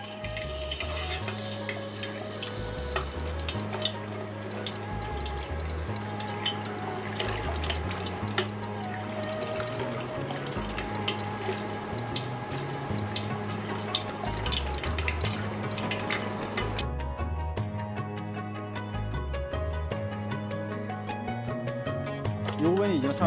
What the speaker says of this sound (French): L'huile est chaude, on entend un frémissement.